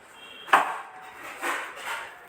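Peanuts dry-roasting in a pan while being stirred: a sharp metallic scrape and clink, followed by softer rattling, shuffling sweeps of nuts against the pan, close and moderately quiet.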